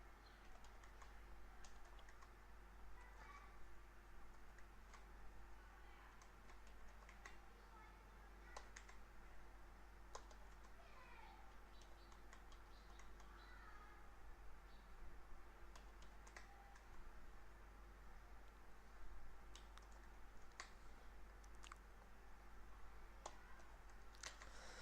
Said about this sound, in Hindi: ये कुछ नंबर्स मैंने यहाँ पर टाइप किए